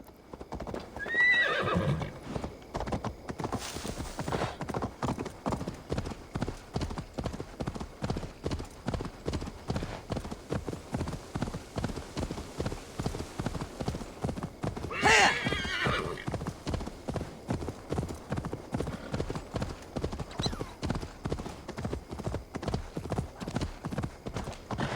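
A horse in Assassin's Creed Valhalla gallops with a steady, close clip-clop rhythm for the whole stretch. It neighs loudly near the start and whinnies again about midway.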